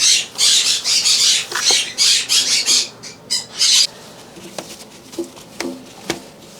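Pet birds squawk loudly and repeatedly indoors in a burst of shrill, rapid calls over the first few seconds, then settle into scattered softer chirps and clicks.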